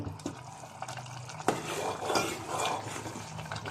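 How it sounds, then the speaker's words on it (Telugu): A pot of chicken kabsa, uncovered, is stirred with a utensil, giving soft scraping and clinking against the pot over a low bubbling simmer, with one sharper knock partway through. "ఇప్పుడు మూత తీసేసి కాసేపు కలుపుకుందాం."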